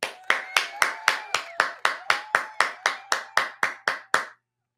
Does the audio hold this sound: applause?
yes